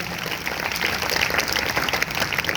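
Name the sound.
audience applause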